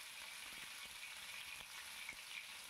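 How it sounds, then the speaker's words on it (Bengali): Pointed gourd frying lightly in a pan with salt and turmeric, a steady close hiss of sizzling oil throughout with faint scraping and stirring knocks, no talking. "এবার ভালো করে নাড়াচাড়া করে নেব, হালকা ভাজা হাফ করে নেব।"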